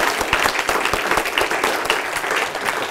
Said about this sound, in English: let's give her a big round of applause anyway